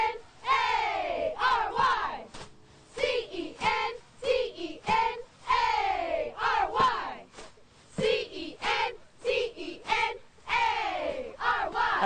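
A college cheer team chants and shouts in unison at a fall-session event, loud rhythmic bursts of voices repeating in short phrases with brief pauses between, near and energetic throughout.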